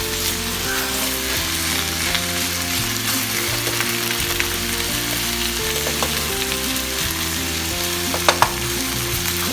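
A steak fries in a pan after a splash of Jack Daniels, giving a loud, steady sizzle that runs unbroken throughout with a faint clink or two near the end.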